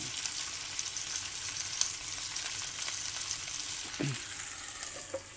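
Whiting steaks fry in a hot pan, turned onto their edge to cook the sides, giving a close and steady crackling sizzle with a brief utensil clink near the end.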